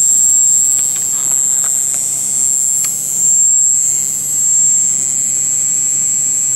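A MagSpinner pulse motor spins at about 8,500 RPM, giving a steady high-pitched whine over a low hum, close and continuous with no talk.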